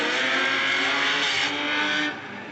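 A Corvette and a Nissan 350Z drift during qualifying at Orange Show Speedway in an Ultimate Drifting Challenge round, with loud, close engines roaring and tires screeching before the sound drops off at the end.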